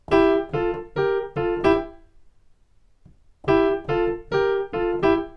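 A boogie-woogie piano left hand pounds out a bouncy, driving rhythm in two short bursts, five heavy chords, a pause of near silence, then six more.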